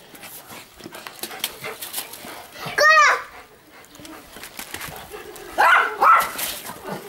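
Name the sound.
dog barking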